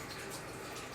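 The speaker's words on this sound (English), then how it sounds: "Rinse my hand off real quick." Water from a tap runs over a hand being rinsed, a steady broadband splash and hiss lasting the whole second, fairly quiet and close, with no talking.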